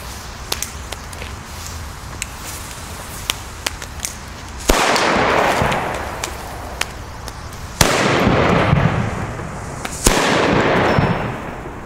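Funke D firecrackers from 2017 go off outdoors: three loud, close bangs, each followed by a long decaying boom, over scattered small crackling pops.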